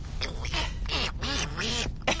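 A child imitates a duck, making a run of raspy, nasal quacks close up, one after another.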